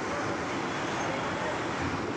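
Strong storm wind blows hard and steadily outdoors, a broad, rough roar with gusting rumble filling the whole stretch, and no voices heard over it.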